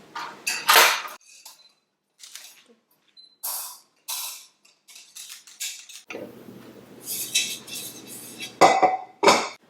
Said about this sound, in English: I'm going to flip it out onto a cooling rack so we can glaze it.